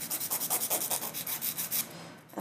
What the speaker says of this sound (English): 100-180 grit file. So for this part, I like to use the 100 side.